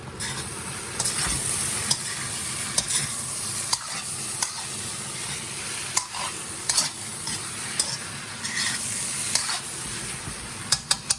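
Shrimp stir-frying in a wok for shrimp and vegetable fried rice, a steady loud sizzle with repeated scraping stir strokes and sharp spatula clicks throughout, no talking.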